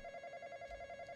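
An in-game telephone rings steadily in Roblox The Intruder, a repeating electronic trill with a pulsing rhythm, fairly quiet and heard alone.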